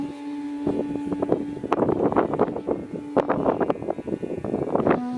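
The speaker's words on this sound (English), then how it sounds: "It's a little bit windy out here, so I don't know if you can hear me too good" Steady, loud wind buffeting a microphone in the Wadi Rum desert, Jordan, a constant roaring rumble with gusty swells throughout, no voice audible.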